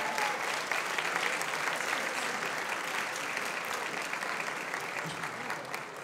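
A crowd applauds the winner of a group cosplay contest at an anime convention, steady dense clapping that holds at even volume throughout without any talking.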